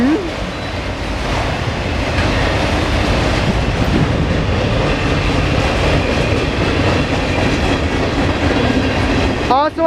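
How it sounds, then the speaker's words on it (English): Norfolk Southern northbound mixed freight train passing at Cooke Road in Columbus, Ohio: a loud, steady rumble and clatter of wagons rolling close by, filling the whole stretch without a break, with a brief horn-like tone at the end. "Trains at Cooke Road"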